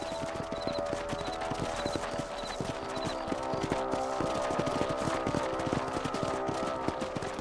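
Steady clip-clop of a horse's hooves while riding in Red Dead Redemption, continuous and rhythmic through the whole stretch, with an occasional faint whinny over a busy outdoor game ambience.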